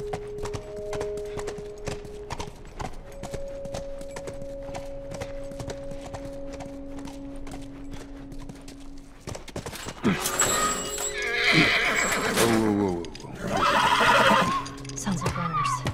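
Horse hooves clip-clopping in a steady rhythm in the video game The Last of Us, followed by two loud, close whinnies in the second half, over a quiet tonal background.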